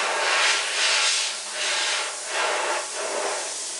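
An airbrush sprays white paint onto a fender in steady, close hissing bursts that swell and ease in a regular rhythm, with no voices over it.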